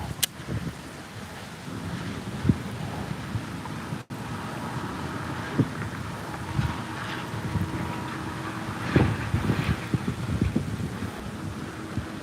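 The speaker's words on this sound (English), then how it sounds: "that wind is something else right now" Strong, gusty wind buffeting the microphone outdoors on the water while bass fishing ahead of an incoming front, a constant rushing roar with occasional bumps and knocks.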